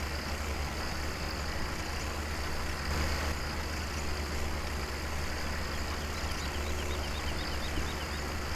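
A vintage tractor engine drones steadily as it drives across a sugar beet field in Farming Simulator 17, a constant low rumble with faint ambient noise and no pauses.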